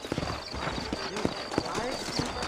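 Horse hooves clip-clopping in the Red Dead Redemption video game, a brisk uneven series of close hoof knocks mixed with a short whinny and someone talking over them.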